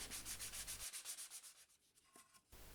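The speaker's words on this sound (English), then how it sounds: "just give everything a final sand" Rhythmic back-and-forth scraping of sandpaper by hand on a wooden box, quiet and close, slowing and softening before resuming briefly.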